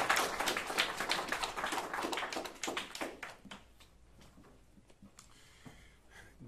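An audience at a Philadelphia press event about gun violence applauds the District Attorney's Office with sharp, close clapping that is loud at first, then thins to a few scattered claps and fades out.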